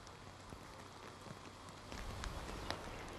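Rain falls steadily onto the ground as a soft, even hiss scattered with faint droplet ticks, distant and quiet throughout.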